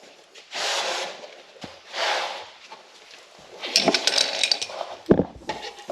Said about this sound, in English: I'm going to move my oil pan a little forward.